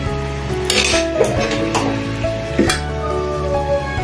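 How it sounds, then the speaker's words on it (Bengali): Tilapia fish curry gravy bubbling and sizzling in a pan on a home stove, a steady close hiss with occasional stirring clinks and scrapes against the metal throughout. "এখানে দেখুন ঝোল সুন্দরভাবে ফুটে উঠেছে।"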